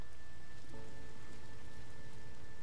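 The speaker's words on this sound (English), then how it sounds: "that sound of rain just kind of stops, and now it's like pitter-pattering" Rain falling in the video game No Man's Sky, a steady dense patter heard alone, with a faint tonal hum from the game joining partway through.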